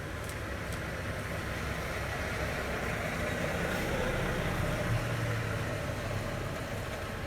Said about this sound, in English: we got a truck pulling in here, gonna make a bunch of noise